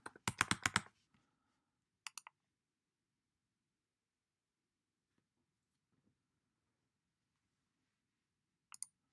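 Computer keyboard keys tapped to enter a password, a quick burst of clicks at the start, a couple of isolated taps a moment later, then a final pair near the end in a quiet room.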